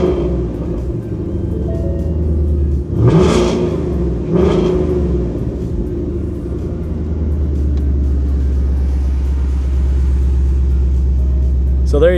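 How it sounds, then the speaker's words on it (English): Ford Mustang GT exhaust with stock mufflers and an H pipe in place of the resonator, two sharp revs over a deep rumble, then a steady idle up close. "This is what GT sounds like when you switch out just the resonator."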